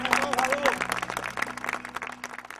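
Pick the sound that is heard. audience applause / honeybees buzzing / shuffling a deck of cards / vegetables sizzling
audience applause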